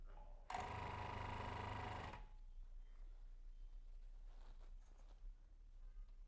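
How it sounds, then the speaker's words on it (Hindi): A bag closer machine stitches across a bag and locks the seam at the end, a loud steady mechanical whir lasting about a second and a half, then stopping abruptly into quiet room tone. "ये है इस मशीन की सिलाई और लास्ट में लॉक भी लग रहा है दोस्तों फिर से एक बार आपको सिलाई करके दिखा देता हूँ"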